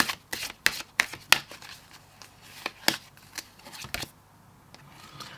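Tarot cards are shuffled by hand up close, a quick series of crisp, papery riffles and snaps at an uneven rhythm, then quieter rustling, with no talk over it.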